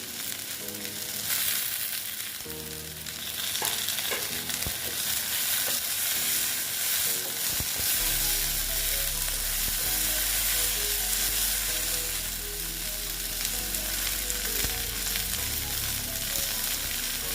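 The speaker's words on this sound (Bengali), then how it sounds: "এখন আমি টমেটো গুলো দিয়ে দিচ্ছি" Tomatoes hit hot oil in a pan for besan bhindi, a loud continuous close-up sizzle and hiss with occasional stirring clinks and scrapes running throughout.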